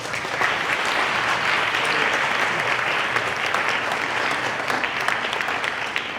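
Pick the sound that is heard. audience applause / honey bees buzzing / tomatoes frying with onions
audience applause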